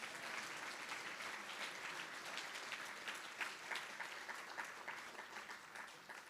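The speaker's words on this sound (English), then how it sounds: "You should clap for them as well." Audience at a Jewish Federation annual meeting applauding board chairs and partner organization representatives, a steady sustained wash of many hands clapping at moderate volume throughout, without speech.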